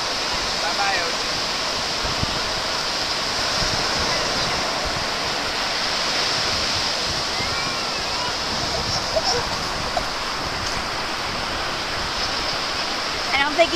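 Steady ocean surf rushes at a beach, a dense, unbroken wash of waves heard close and fairly loud throughout.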